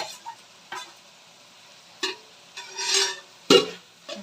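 Boiled potatoes tipped into tomato gravy in a pan: a few soft thuds and scrapes, then a brief sizzle and a spoon stirring, close and fairly quiet.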